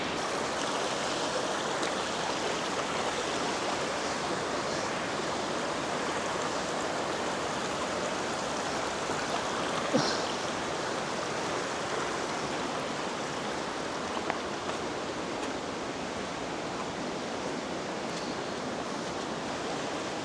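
A flowing stream at an outdoor swimming hole in Greyton, South Africa, rushing steadily and evenly throughout, close and continuous with no voices.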